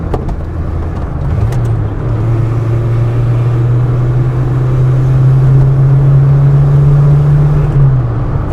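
A rear-engined Hillman Imp driving along, its small engine giving a steady low drone that rises slightly and holds before easing off near the end, loud and close against constant road rumble.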